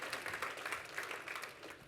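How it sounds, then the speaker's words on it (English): An audience applauds steadily throughout, a dense patter of many hands clapping at a moderate distance with no voices over it. "I think we should give her"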